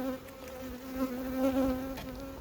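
Honeybees hum steadily at a hive on nine frames in late August, a close, continuous buzz with a layered drone that swells slightly and fades, with no voices over it.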